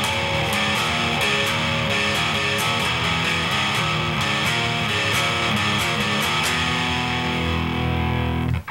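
A distorted electric guitar plays the intro to a song in heavy power chords, a dense, loud riff with steady rhythmic attacks that runs continuously and then cuts off abruptly at the end.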